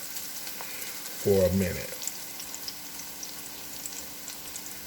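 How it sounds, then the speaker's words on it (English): Shrimp chow fun simmers in a pan with a soft, continuous sizzle and bubbling, and a person speaks briefly over it. "So just allow that to simmer there"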